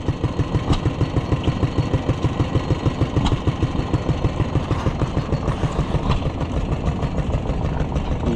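A Simplicity garden tractor fitted with a corn sheller idles close by, its small engine chugging in an even, rapid pulse throughout, with no talk.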